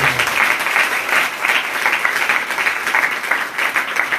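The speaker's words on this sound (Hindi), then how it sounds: "जोरदार ताली पवित्र आत्मा का" A congregation at a Hindi-language Christian worship meeting gives loud, sustained applause, a dense, steady wash of clapping that continues for several seconds with no pauses.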